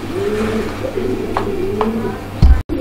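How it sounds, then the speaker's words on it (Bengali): Pigeons at a market stall selling breeds such as Lahori pigeons coo in a close, low, rolling warble that repeats steadily, ending with a brief thump and a sudden cut. "আমরা এই মুহূর্তে দেখতে পাচ্ছি আরো এক জোড়া কবুতর"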